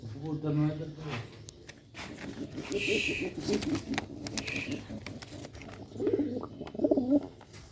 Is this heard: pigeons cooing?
yes